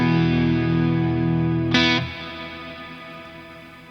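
Sustained electric guitar chord through a Neunaber Immerse Mk1 shimmer reverb pedal, bright and ringing, then a brief swell of high octave shimmer before the tone cuts and a long reverb tail fades away.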